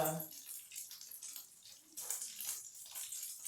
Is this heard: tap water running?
yes